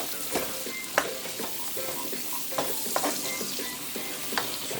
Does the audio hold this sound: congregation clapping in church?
no